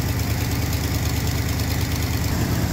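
A classic car engine runs steadily at a high idle, a loud, continuous rumble with an even, rapid pulse and no voices over it.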